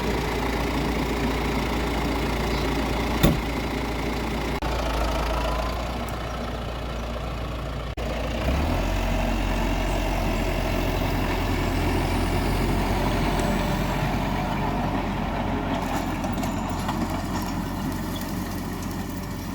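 A farm tractor engine runs steadily during hay cutting season, a loud continuous diesel rumble heard up close from start to finish with one brief knock midway.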